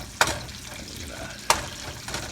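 Artichoke hearts and capers are stirred in a sizzling pan, with two sharp scraping stirs standing out against a soft, steady background sizzle, close by and without talking.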